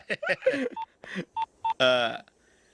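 A cell phone keypad plays a quick series of short dialing tones, some grouped closely and one held longer, close and clear with no talk.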